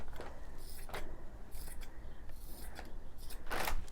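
Scissors snipping a large chunk off a piece of fabric from a blouse, several rasping cuts close to the microphone in quick succession, with no talking.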